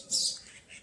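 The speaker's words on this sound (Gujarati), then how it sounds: "ચકલી" A single sparrow gives a brief high chirp at close range near a spot where water and fried gram-flour snacks have been set out, followed by a fainter second call.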